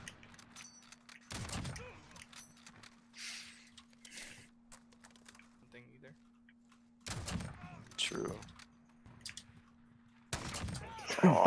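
Gunfire in a Call of Duty 1v1 match, sharp bursts of shots hitting in a few loud clusters with quieter gaps between, under a player talking.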